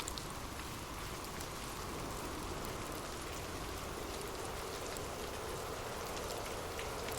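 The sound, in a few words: gentle rain falling, raindrops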